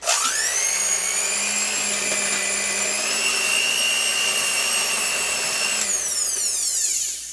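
An electric mixer whines loudly and steadily as it creams white sugar and shortening in a big bowl, the motor holding a high pitch before winding down near the end.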